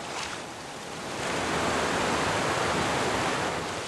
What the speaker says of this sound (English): The waterfalls!